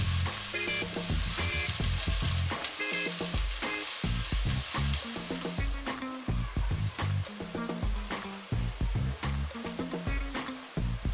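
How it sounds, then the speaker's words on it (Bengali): Four chopped onions sizzle loudly in oil in a pan for a Bangladeshi chicken roast, with repeated scraping stirs cutting through a dense, close frying hiss. "নাড়াচাড়া করছি পেঁয়াজগুলো একটু কালার চেঞ্জ হওয়া পর্যন্ত অপেক্ষা করছি"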